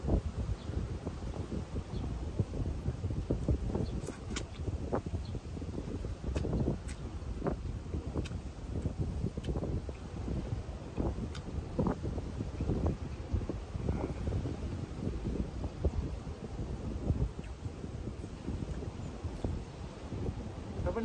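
Wind gusts across an open seaside spot on a tropical Philippine coast, a steady broadband rush with buffeting rumble on the microphone and scattered rustling, continuous and fairly loud throughout.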